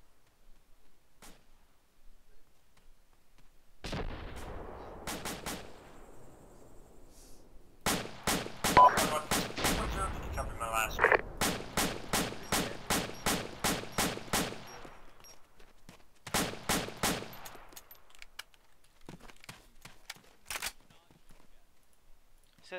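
ArmA II military combat game gunfire rattles in rapid automatic bursts and single sharp shots, some loud and close and others more distant, mixed with clicks while players talk over radio.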